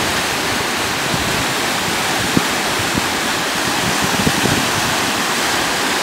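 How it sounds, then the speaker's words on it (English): A fast-running river seen from a bridge in early spring snowmelt, giving a loud, unbroken broadband rush of churning water with faint splashes, steady and close throughout. "looking down over the river here, and it's running pretty fast"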